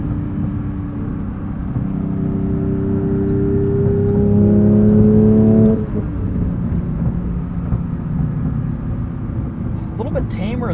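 The flat-six engine of a 2023 Porsche 911 GT3 with a manual gearbox, derived from the GT3 Cup car, drones and rises in pitch while driving. It drops off near the middle, with tire and road rumble throughout.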